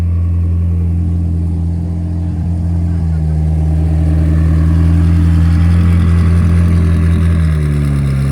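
An SSC Tuatara hypercar engine drones steadily and loudly, its pitch slowly rising as it builds, with no voices over it.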